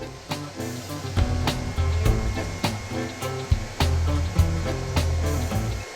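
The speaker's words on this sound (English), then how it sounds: "Here is the vacuum cleaner." An old vacuum cleaner runs with a steady droning motor hum, a rhythmic knock or click repeating roughly once a second throughout.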